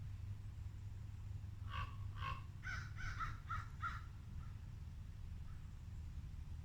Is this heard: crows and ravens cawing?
yes